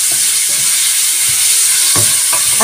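Onion sautés in a pan for a Moroccan carrot chermoula, giving a steady, loud, close sizzle with a few soft stirring scrapes breaking through; no talk.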